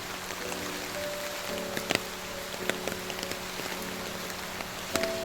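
Steady rain patters on outdoor surfaces during a rainy spell, a dense, even hiss with scattered sharper drops and a few faint background tones, continuous throughout and with no talking.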